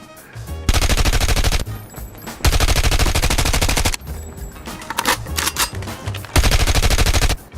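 The RUS-79U submachine gun fires in the mobile shooter Call of Duty: Mobile, loud full-auto bursts separated by short pauses, four long strings of rapid shots with a shorter stutter between them.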